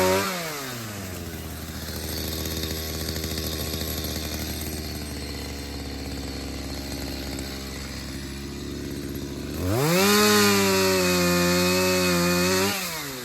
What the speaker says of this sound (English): And this is why I really need the chainsaw.